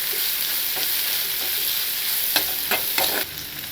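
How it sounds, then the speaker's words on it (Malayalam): Chopped shallots sauté in a pan for a tamarind curry, giving a steady close sizzle with a few scraping stirs toward the end and no talk. "ചെറിയ ഉള്ളി അരിഞ്ഞ് വെച്ചിരിക്കുന്നതാണ് ഇതിട്ട് കൊടുക്കുക. ഇത് നല്ലതായിട്ട് വഴന്ന് വരണം."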